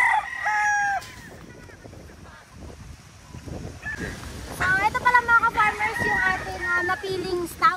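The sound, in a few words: rooster crowing, stag and pullets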